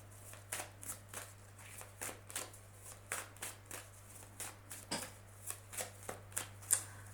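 Oracle cards being shuffled by hand in a quiet room, a steady series of crisp riffling bursts at roughly regular intervals, close and moderately loud over a faint background hum.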